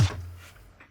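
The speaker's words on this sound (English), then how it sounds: "So this is my snare sound." Single snare drum sample triggered in music software, one short, quiet hit with a sharp crack that decays quickly, heard alone.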